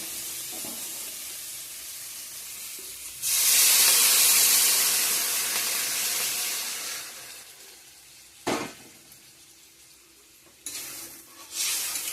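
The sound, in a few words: potatoes and paneer sautéing in spices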